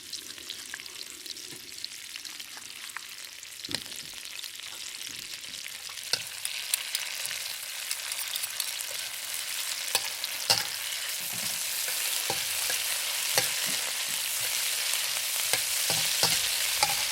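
Shrimp stir-frying with chili bean sauce in a pan, a continuous bright sizzle that grows louder, punctuated by frequent scraping stirs, close and with no talk.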